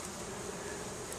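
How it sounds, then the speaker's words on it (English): Faint, steady buzzing of many honeybees inside a hive during oxalic acid mite treatment, a dense low hum without pauses, slightly muffled as if enclosed. "The bees are whipping it around in there."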